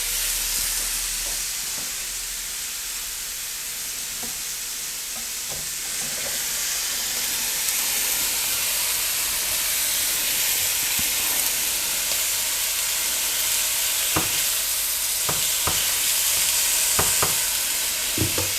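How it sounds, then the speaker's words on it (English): Spiced lamb rump steaks sear and render fat in a hot pan, a loud continuous sizzle with occasional sharp crackles and pops near the end, and no talking. "start to sear them off and slowly render all that fat"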